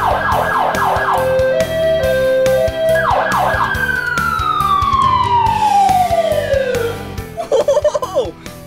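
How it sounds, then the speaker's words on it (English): A fire truck siren at a fire station, loud and close, cycling through rapid yelping sweeps and long falling wails over rumbling engine and background noise. "Check this out down here. The siren. Listen."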